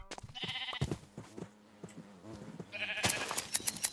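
Sheep being sheared in a modded Minecraft game, with blocky game sound effects: a few bleats and quick snipping clicks in bursts, fairly close and clear, no talking over them.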